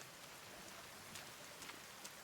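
Steady rain in The Forest video game, a constant hiss of falling drops with a few brighter patters, fairly quiet and continuous throughout with no talking.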